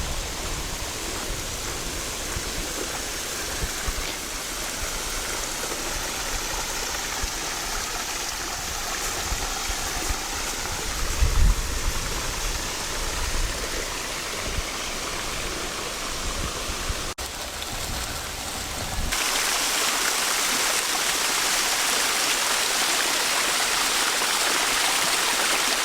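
Water running from a broken water trough along a rural walking route, a steady close hiss and trickle of flowing water that grows louder toward the end, with no talking.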